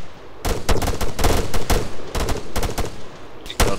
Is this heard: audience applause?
no